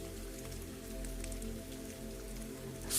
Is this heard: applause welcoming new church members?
no